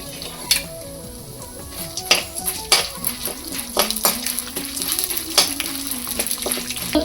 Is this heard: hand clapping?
no